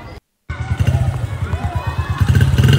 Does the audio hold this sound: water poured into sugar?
no